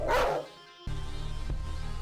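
A Tosa Inu, the Japanese mastiff breed, gives a single loud, close bark, followed by a lower steady rumbling background.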